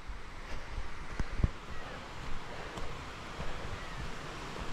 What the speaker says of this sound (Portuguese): Tem uma queda essa cachoeira aqui, galera.